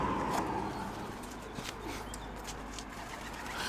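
A domestic pigeon, recently left without its mate, coos low and softly in a backyard loft, its murmur half-buried under steady outdoor background noise and a faint rumble.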